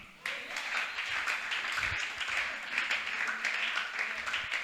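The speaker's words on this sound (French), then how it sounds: "Et je veux que chacun acclame." A church congregation applauds and cheers at a pastor's urging during a Friday service, a steady broad wash of clapping that starts abruptly and holds loud and continuous throughout.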